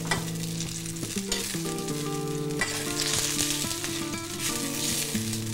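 Ground beef and hot dogs sizzle steadily in a hot pan, with occasional stirring scrapes, while music plays over it.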